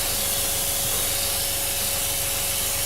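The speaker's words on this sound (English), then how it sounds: "get the old airbrush going and very light" A constant, close airy hiss of an airbrush lightly spraying paint on a 1/48 scale Su-27UB Flanker model kit, unbroken for the whole stretch with a faint steady tone underneath.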